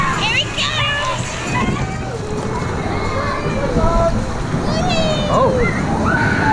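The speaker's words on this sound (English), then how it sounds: "This should be called a lazy river." Water splashing and sloshing on a lazy river ride at a water park, mixed with excited voices and chatter from riders talking and shrieking over the continuous rushing water.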